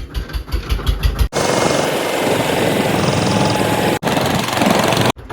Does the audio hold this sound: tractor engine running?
yes